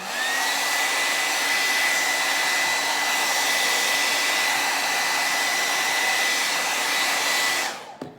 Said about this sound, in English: And now I will use the hair dryer.